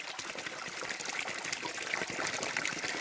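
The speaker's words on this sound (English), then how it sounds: "there's a beautiful artificial water coming from this bamboo, as you can see." Water trickles steadily from a bamboo pipe on an artificial water feature along a hilltop farm trail in Guwahati, Assam, making a continuous close splashing patter with no voices.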